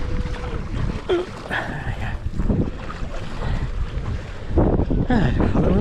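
Wind gusting across open water during stand-up paddleboarding at an open water swim event, a steady rushing buffet on the microphone with faint voices in the background.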